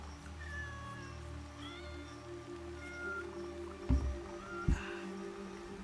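Kitten meowing in Assassin's Creed Shadows, a few soft, high mews over a steady game ambience with low rumble and two brief thuds near the end.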